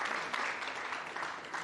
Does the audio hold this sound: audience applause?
yes